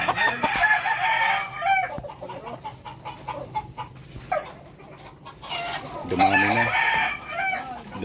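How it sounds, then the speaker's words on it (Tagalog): Imported Peruvian fighting roosters on a farm crow loudly several times, with clucking and other fowl calls in between, fairly close by. "Ang dami na palang manok ni Louie."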